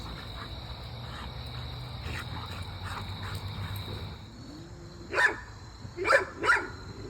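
After several seconds of steady background hum and insect-like chirring, a dog barks three times, sharp and moderately distant, the last two close together.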